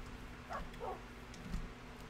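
Tamed wolf puppies in Minecraft giving two or three faint, short yipping barks close together, with a soft thump after them over quiet game background.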